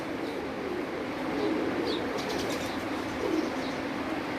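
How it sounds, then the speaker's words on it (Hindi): Soft pigeon coos repeat at intervals over a steady background hiss, fairly close but quiet, with no talking, on a rooftop pigeon loft. "ये भी उस्ताद अकमल खान के दिए हुए कबूतर में से है जी।"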